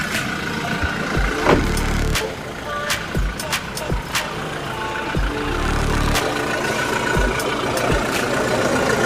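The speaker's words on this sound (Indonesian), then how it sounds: "ini kondisi mesin Innova Diesel 2018 V. Dia suara masih renyah-renyah" A 2018 Toyota Innova V diesel engine runs at idle, a steady close mechanical drone with a few sharp clicks and knocks over it and no speech.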